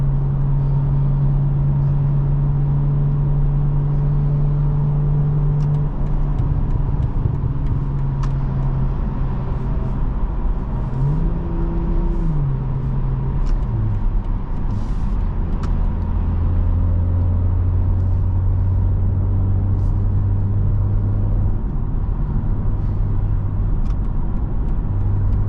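A 2024 BMW M340i xDrive pulls hard through repeated 0 to 60 runs, a loud, steady engine drone rising and falling in pitch as it climbs through the gears, close and constant with no talking.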